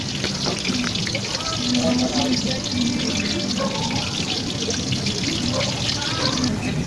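Vinegar poured into a cooking pan, a continuous trickling, splashing liquid sound with running-water texture, steady and close, with a voice heard talking over it.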